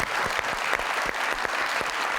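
Audience applause for Punjab Chief Minister Maryam Nawaz on a TV talk show, a brief burst of moderately loud clapping with a few sharper individual claps standing out.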